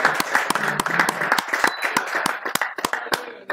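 Sparse clapping from a small group honoring the second-place finisher at a Mortal Kombat 11 gaming tournament, irregular claps close by with a few voices murmuring underneath.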